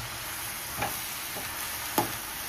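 Steady oil sizzle from a pan as spices and sugar fry for bhuna khichuri, with a couple of brief stirring scrapes against the metal; no voices.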